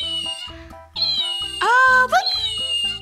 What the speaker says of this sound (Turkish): Bana miyavlıyor.